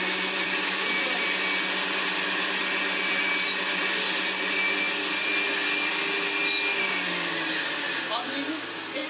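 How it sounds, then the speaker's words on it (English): A Hoover Senior 652a upright vacuum cleaner, restored and fitted with its cleaning tools, runs steadily and loudly with a constant whirring motor drone throughout, with no break in the sound. "let's do some above floor cleaning with our Hoover Senior"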